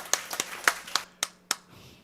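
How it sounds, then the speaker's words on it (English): A few sparse, separate hand claps ring out at a harness racetrack ceremony honoring a long-serving figure, about six sharp claps spaced unevenly over two seconds. "Please give a big round of applause to Sam McLeod for 50 years of the Gold Cup and Saucer."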